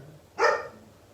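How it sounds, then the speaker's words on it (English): A single loud dog bark rings out close by, brief and alone against a quiet indoor background while the dog waits to be let back in. "my dog started barking to come back in"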